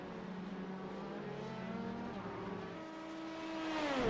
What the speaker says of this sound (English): Wow, these cars battle